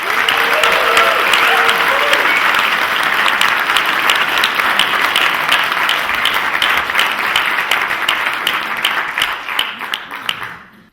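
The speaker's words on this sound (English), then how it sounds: "So everyone give a round of applause for Luke, can you?" Sustained audience applause welcoming Luke Flanagan TD to a public meeting, dense and steady clapping from a crowd that continues for about ten seconds before tapering off at the end.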